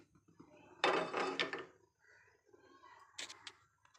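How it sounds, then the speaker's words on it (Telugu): A pressure cooker is set down on a kitchen stove with a sharp metallic clatter, followed by a few lighter knocks and clinks of metal against the burner, moderately loud and close. "కుక్కర్ పెట్టుకుందాం ఫ్రెండ్స్."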